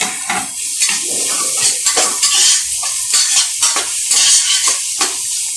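Tomatoes fry for biryani in a pan, loud close sizzling broken by repeated scraping and clattering strokes of a metal spoon against the vessel, with no talking.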